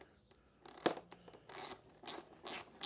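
Seat bolts on a Honda CRF250X motorcycle being tightened, close metallic ratcheting clicks in several short bursts that grow louder and longer toward the end, with no voices.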